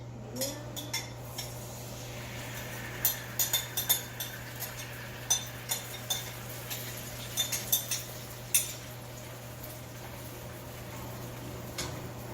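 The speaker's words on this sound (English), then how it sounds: "I'm just stirring it a little" Chicken sauce stirred in a pan with a utensil, light scattered clinks and taps of metal against the pan at an uneven pace over a steady low hum, close and fairly quiet, no voices.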